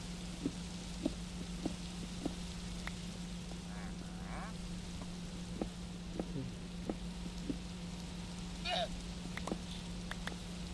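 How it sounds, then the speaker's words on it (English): Steady game rain in a Craven's Forever World playthrough, a constant hiss dotted with scattered drop ticks, mixed with a low steady hum. "The rain isn't terrible."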